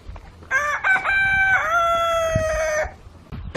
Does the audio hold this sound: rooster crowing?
yes